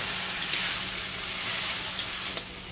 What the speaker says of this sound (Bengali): এইবার এটাকে ভালো করে ভেজে একটুখানি জল দিয়ে কষাবো